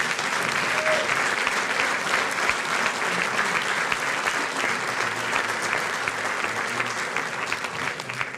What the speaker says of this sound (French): Je pense qu'on peut l'applaudir bien fort.